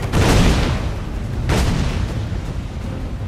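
Ship cannon fire during a naval battle in Assassin's Creed Black Flag: two heavy booming blasts, one at the start and another about halfway through, over a dense, loud rumbling battle din.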